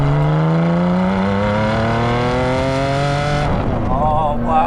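A Ferrari Enzo's V12 climbs hard through the revs, a loud rising howl with sweeping harmonics that peaks, breaks off at a gear change, then begins rising again.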